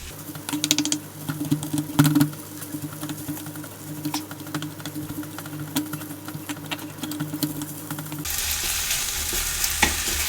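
Egg fried rice made with brown rice being stir-fried over high heat, a close busy sizzle with frequent spatula scrapes and taps, ending in a louder, more even hiss for the last two seconds.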